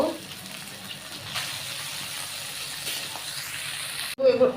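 Spring onion leaves fry in a pan, a moderate hissing sizzle that holds steady before a brief cutoff and a short louder burst at the end.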